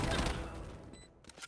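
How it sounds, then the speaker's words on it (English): Gunfire in a video game sounds as a brief burst of shots that fades out, with a faint tone and a few clicks at the end. "We haven't unlocked the look at my mini map when I hear gunfire ability yet"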